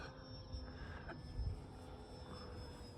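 An E-flite Valiant electric RC foam airplane flies at a distance, its faint, steady motor whine droning on with no one speaking.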